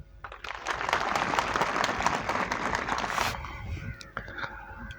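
A lecture audience breaks into loud, dense applause to welcome Professor Ahmad Rafique Akhtar, a continuous roar of clapping that stops abruptly and leaves scattered faint claps.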